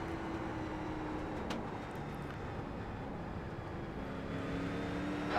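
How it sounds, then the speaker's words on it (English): Street stock race car at USA International with the engine held at full throttle, a steady droning roar with a sustained engine tone heard from inside the car, fairly quiet overall. "There, that's actually full throttle for the first time."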